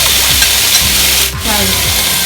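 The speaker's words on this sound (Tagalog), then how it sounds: "Then, lagyan na natin yung ating potato." Potato pieces dropped into a hot pan with chicken filling for empanadas, frying with a loud steady sizzle while a utensil scrapes and stirs in repeated strokes.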